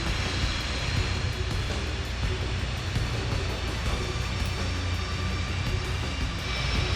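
Aircraft engine in a flight simulator, played through a VKB STECS throttle system, holding a constant, dense roar close and loud for the whole stretch with no change in level and no talking.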